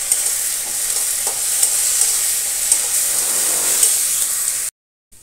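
White chicken curry stirred in a pan with cashew paste hisses and sizzles steadily close by, with occasional scraping stirs, before the sound cuts off abruptly near the end; no talk.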